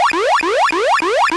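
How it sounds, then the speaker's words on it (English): Industrial plant evacuation signal and fire alarm: a loud, steady electronic whooping tone that sweeps upward in repeated cycles of about 0.3 seconds, heard alone. "The evacuation signal and fire alarm sounds like this."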